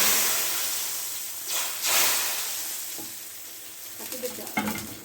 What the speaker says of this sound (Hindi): ये देखिए इस तरह से हम तड़का दालचे में डाल